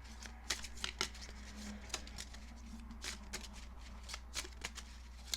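Tarot cards being shuffled by hand, a quiet run of soft riffling flicks and taps in an uneven rhythm, close and low in level, with no speech.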